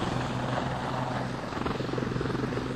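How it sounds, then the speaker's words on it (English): A helicopter sets down on a football field at the rear of Pebble Mill in 1986, its rotor chopping in a loud, steady beat close by, with engine whine and wind roar and no speech. "coming in on a perfect three-point landing, if indeed helicopters make three-point landings"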